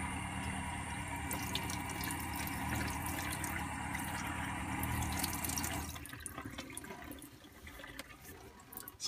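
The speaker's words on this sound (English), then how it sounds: "Turn the water on," Water runs steadily from a tap into a van shower, a continuous close splashing hiss that softens and turns more uneven partway through.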